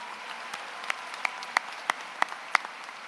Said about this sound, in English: How about one last round of applause to all of our student leaders and everybody's here?